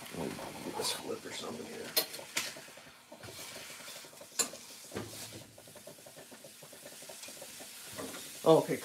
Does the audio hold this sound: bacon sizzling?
yes